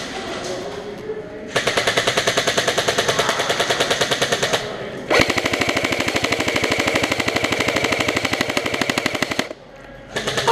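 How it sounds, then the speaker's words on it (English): Long rapid-fire machine gun bursts from a video game, emptying a full magazine: two sustained loud volleys separated by a brief pause, with no voices. "Oh, come on, that was a mag dump."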